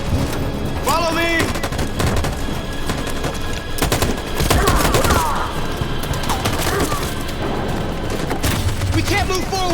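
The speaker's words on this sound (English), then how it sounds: "That machine gun is taking down everything that moves." Machine gun fire in the video game Detroit: Become Human, a loud, continuous hail of rapid shots with sharp cracks and debris, sustained without pause.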